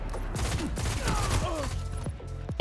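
Rapid gunfire from a weapon in the video game Destiny 1, a dense burst of shots mixed with game effects and a brief voice, fairly close and steady.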